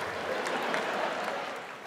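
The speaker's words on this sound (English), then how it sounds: "You can clap." Comedy gala audience applauding, a steady, dense wash of clapping from a large crowd that holds level and then tapers slightly at the end.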